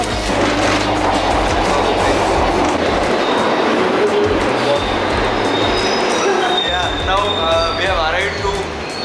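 Glasgow subway train moving on rails, a loud continuous rumble and rattle of wheels with rising metallic squeals toward the end, heard from close by with a voice speaking underneath.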